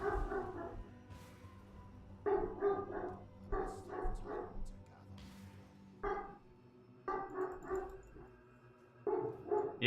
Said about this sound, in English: He just got let in and is barking up a storm again.